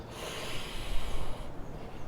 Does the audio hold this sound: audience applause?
no